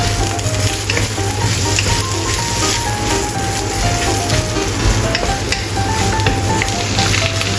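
Cabbage and carrot slices stir-fry in a hot pan for vegan noodles, a loud, steady crackling sizzle with the scrape and toss of stirring running close and continuous, with no voices.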